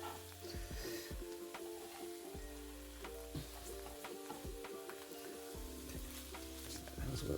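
Wild garlic fries and wilts in a pan, crackling and sizzling close by with stirring scrapes and irregular pops, quiet and without talk.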